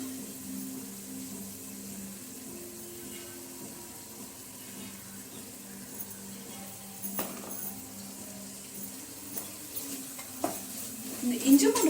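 Ginger garlic paste fries in a pot for chicken biryani, a soft continuous sizzle under a low hum, with intermittent scraping and clinking from stirring that grows busier and louder toward the end.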